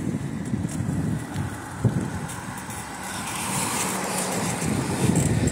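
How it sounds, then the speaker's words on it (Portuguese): Car passing on a street in the Cordeiros neighbourhood of Itajaí, Santa Catarina: a steady low rumble of road traffic with wind buffeting the microphone, swelling slightly toward the end as the vehicle goes by. "Aí vem um carro"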